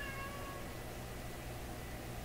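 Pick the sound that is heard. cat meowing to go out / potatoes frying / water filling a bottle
cat meowing to go out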